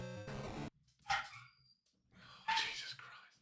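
A dog barks twice at close range, two loud, sharp barks about a second and a half apart. A brief harmonic tone opens the clip, and short quiet gaps fall between the barks.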